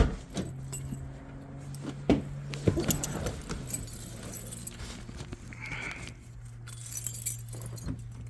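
A Nissan Z fitted with an Injen cold air intake and new valve covers idles, heard from inside the cabin as a low, steady hum. Keys jangle loudly close by over it.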